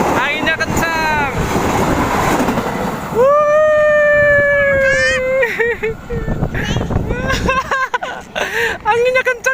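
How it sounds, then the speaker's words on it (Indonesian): Strong gusts buffet the microphone with low rumbling wind noise throughout, while voices talk and call out over it. "Anginnya kencang ya."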